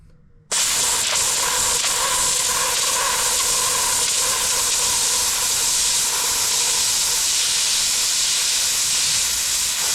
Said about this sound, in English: what I'd like to do is see if this steamer will get rid of one of these stains, or at least lighten it up a little bit